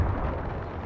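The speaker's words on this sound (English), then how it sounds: "Oh my god, I just got cannon sniped." A cannon shot booms into a ship in the pirate game Sea of Thieves, one deep, heavy impact with a rumbling low-end tail, loud and close.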